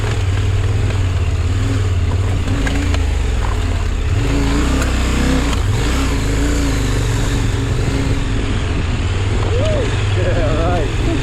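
A motorcycle rides over a very rough, bumpy road, and its engine drones loud and close throughout. Wind roar and jolting rattles run under the engine, and voices talk over it.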